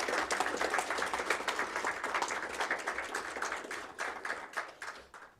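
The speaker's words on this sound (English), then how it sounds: "Please give all our curriculum department district staff a round of applause for helping tonight." An audience at a high school Knowledge Bowl event applauds in a dense, steady burst of clapping that thins out and fades toward the end.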